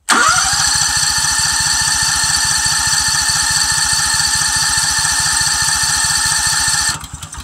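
A small engine, just after carburetor cleaning, cranks with a loud rapid rhythmic chugging that is steady and close, continuing for about seven seconds before cutting off without catching.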